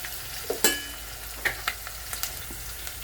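Milkfish stuffing mixture being stirred in a hot pan, with a soft steady sizzle of frying under several sharp scraping and clinking strokes of a utensil against the pan.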